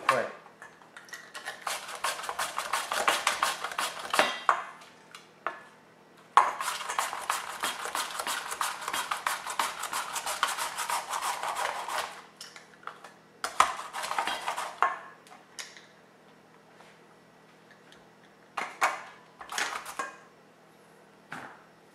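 Rapid knife chopping on a cutting board as potatoes are sliced into fine shreds for hot and sour potato, dense bursts of quick close taps separated by short pauses, with no talking.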